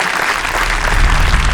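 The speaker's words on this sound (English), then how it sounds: "A huge round of applause, please." A festival audience at Sikhlens India 2023 applauds loudly to welcome author Karen Dosanjh to the stage, with thick, close clapping and a heavy low rumble underneath.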